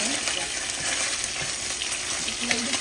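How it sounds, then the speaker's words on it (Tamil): Chicken pieces frying in a pan for nasi goreng, a dense continuous sizzle with occasional stirring scrapes, close and fairly loud with no talking. "சிக்கன் லைட்டாக பொறிச்சு கொண்டு தான் இருக்கிறோம்."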